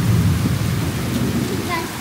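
Heavy rain pours down during a night thunderstorm, with a low rumble of thunder beneath the dense, close downpour.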